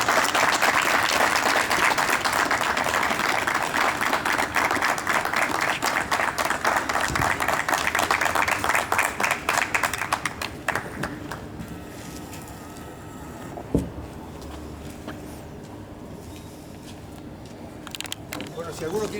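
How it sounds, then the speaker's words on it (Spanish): Loud, warm audience applause closing a press club tribute to deceased local journalists, dense clapping for about ten seconds that then fades, followed by quieter room noise and talk. "les pido por favor que terminemos este acto con un fuerte y caluroso aplauso"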